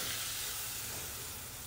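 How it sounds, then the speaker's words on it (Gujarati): Water poured into a hot chilli powder tempering for Gujarati dal gives a loud, close, steady hiss and sizzle that fades slightly over its short length. "તરત પાણી એડ કરી દઈશું જેથી કરીને મસાલો બળી ન જાય અને કલર સરસ આવે."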